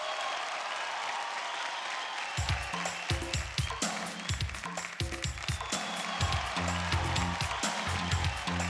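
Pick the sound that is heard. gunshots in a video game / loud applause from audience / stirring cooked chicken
loud applause from audience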